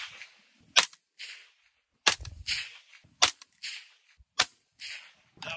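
A 6.5 Grendel rifle loaded with CFE 223 powder fires five sharp, loud shots at an outdoor range, spaced roughly a second apart with brief quiet gaps between.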